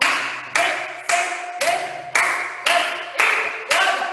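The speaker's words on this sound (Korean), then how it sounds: "박수 열번 시작!" In a seniors' exercise class, a group claps in unison at a steady, even beat of about two per second, each clap crisp and close, with a voice counting along underneath.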